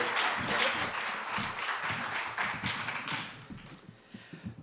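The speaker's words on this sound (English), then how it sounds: "Please, big round of applause for Kirk M." A comedy club audience claps for a comedian taking the stage, a short burst of fairly faint, scattered hand claps that thins out and fades over a few seconds.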